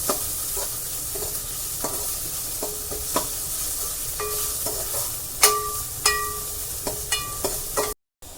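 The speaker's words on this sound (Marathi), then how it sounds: "हे आलं लसूण सुद्धा आपल्याला कांद्याच्या सोबत परतून घ्यायचं आहे" Ginger, garlic and onion sauté in a pan with a little oil for an Agri-style chicken curry, sizzling softly while a spatula scrapes and clinks against the pan in irregular taps.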